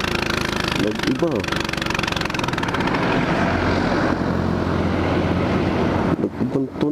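A Motor Star motorcycle with a faulty spark plug runs roughly on a night ride, its engine droning steadily under heavy wind buffeting, while the riders talk briefly at the start and end.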